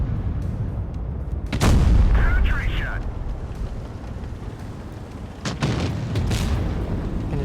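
Tank cannon fire in the video game World of Tanks Blitz booms out loudly around the two-second mark, followed by a second shot near five and a half seconds over continuous engine rumble and game effects.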